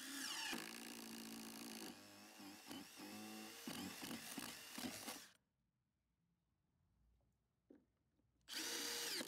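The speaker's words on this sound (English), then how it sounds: "am going to be drilling just with a 3/4 spade right through" Power drill with a 3/4 inch spade bit boring through a roof, loud whirring with speed changes and stuttering bursts, then quiet, then the drill starting again.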